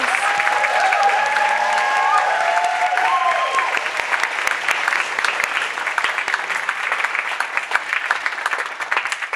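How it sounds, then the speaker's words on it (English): An audience applauds readers at a junior creative writing reading event, steady dense clapping for the full stretch, with a few faint voices briefly audible early on. "Could we get another round of applause for our readers,"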